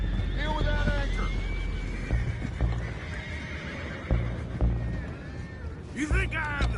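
Horses whinny and neigh in a PS4 video game, a few high, wavering calls over a background of hoof clip-clops and ambient noise, with another neigh rising near the end.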